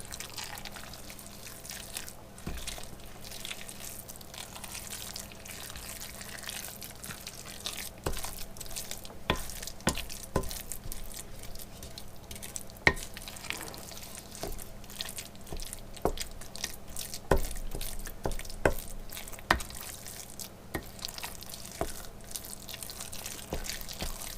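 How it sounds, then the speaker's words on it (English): Wonton filling being mixed with a spoon in a bowl: scattered clicks and wet squelching taps, irregular and quiet, growing somewhat busier toward the end, with no talking. "Alright, so then we're just going to mix this up now."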